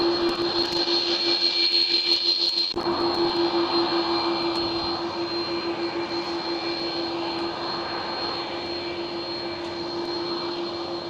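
Jet airliners at Amsterdam Schiphol, a Delta Airlines A330neo and an ITA jet, taking off: a loud, steady engine roar with a high whine, swelling sharply near the start and then holding as a sustained rumble.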